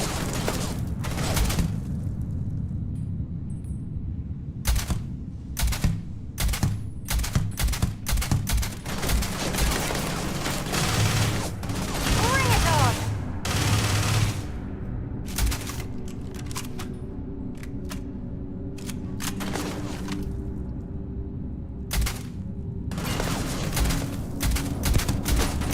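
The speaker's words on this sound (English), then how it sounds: "Yet they were shooting in my direction." Gunfire in the Starfield video game, repeated bursts of shots and single cracks popping at irregular intervals, some loud and close, others quicker in clusters, over a constant background of game ambience.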